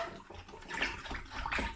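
Very hot water gushes and splashes into a bucket in a continuous rushing pour, fairly close, with no voices.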